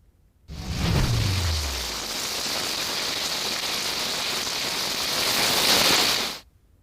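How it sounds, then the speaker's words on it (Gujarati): Heavy downpour pounding steadily on surfaces, a dense roaring wash of rain starting abruptly, holding loud and even for several seconds, then cutting off. "અને હવે વાત ધોધમાર વરસાદની"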